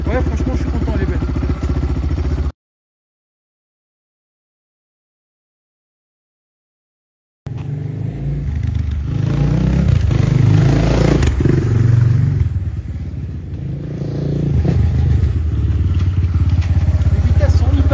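A motorcycle engine runs and revs up and down nearby after a pause of silence, its rough idle rising into louder rumbling surges, with people talking over it.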